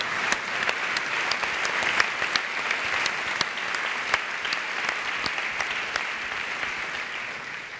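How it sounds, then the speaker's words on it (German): An audience at an awards ceremony claps steadily and continuously, a dense even patter of many hands at moderate volume. "Ihr Applaus."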